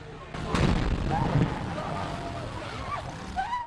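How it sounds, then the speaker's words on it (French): An explosion at a gas depot: a sharp blast erupts early, followed by rumbling and scattered bursts, with faint voices and a high whine in the background. "Une première explosion."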